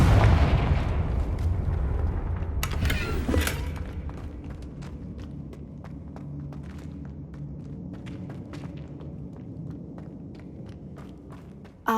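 A Confringo fire spell in Hogwarts Legacy goes off as a deep rumbling blast that fades into a long crackling, burning tail, with a sharp thump right at the end.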